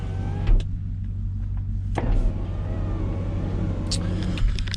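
A car power window motor from a universal power window kit whirs in short runs, with a few brief motor bursts and clicks over a steady low engine rumble nearby.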